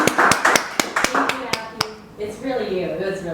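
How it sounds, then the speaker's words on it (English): Scattered hand claps from a small audience at a Las Vegas UX/UI tech meetup, sharp distinct claps that quickly thin out and give way to voices talking. "So yeah, round of applause."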